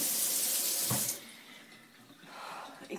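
A kitchen tap runs water into a sink while coffee is being made, a loud steady gush that cuts off after about a second, followed by faint clinks and quiet room noise.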